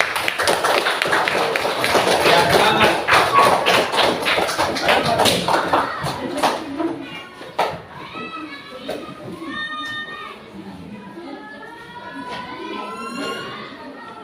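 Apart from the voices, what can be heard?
applause for a group of children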